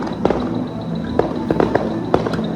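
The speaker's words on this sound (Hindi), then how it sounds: "पटाखे का आवाज़ गूंज रही है" Scattered firecracker blasts echo outside in the early morning, a handful of sharp distant bangs spaced irregularly over a low steady ambient hum.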